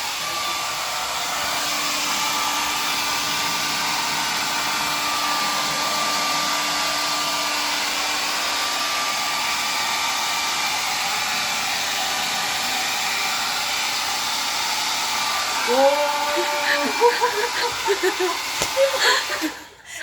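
A hot air blower running at full heat on a broken flat screen TV gives a steady, loud whooshing roar that holds nearly unbroken for most of the stretch, then turns uneven near the end as someone talks briefly.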